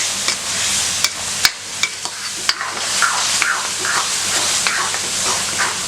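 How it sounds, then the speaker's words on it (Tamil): Tomatoes with turmeric powder sautéed in a pan for a kuzhambu: a steady hiss of frying runs throughout, broken by sharp clicks and scrapes of a spoon stirring against the pan, with no talk. "தக்காளியும் நல்லா மசிஞ்சிற மாதிரி நல்லா வதக்கிடுங்க."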